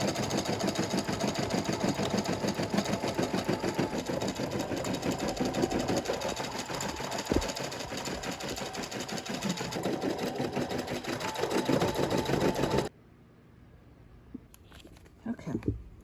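Embroidery machine satin-stitches a patch on plastic stabilizer with a fast, steady mechanical rattle for about thirteen seconds, then stops abruptly, leaving faint handling noises.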